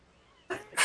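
A man's sudden sneeze in a quiet room, two sharp bursts close to the microphone after a stretch of near silence.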